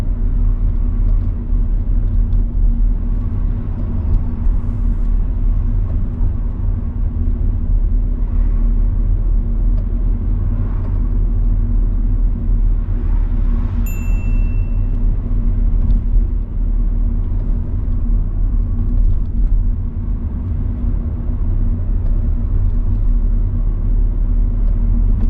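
A car drives at low speed along a narrow road on a UK practical driving test, its engine and tyres making a steady low rumble from inside the cabin that holds even throughout.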